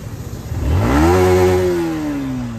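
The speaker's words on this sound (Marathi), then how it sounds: "चला तर फटाफट गाडी चालू करू" A car engine catches and revs up in a rising mid-pitched roar, holds a strong steady tone, then eases down slightly while still running, loud and close with no talking.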